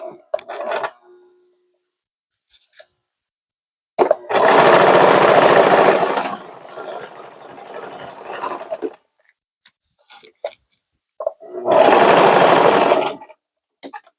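A sewing machine stitches elastic into the waistband seam of palazzo pants in two loud, close bursts of rapid mechanical rattling. Short clicks and handling noises fill the gaps between the runs.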